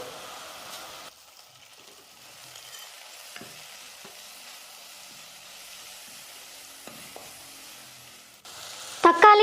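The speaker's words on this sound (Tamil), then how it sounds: "இதையும் சேர்த்துட்டு நல்லா வதக்க போகிறேன்." Chopped tomato with ginger garlic paste sautés in a pan for mutton curry, a faint continuous sizzle with occasional soft stirring knocks, ending in a louder burst of clatter.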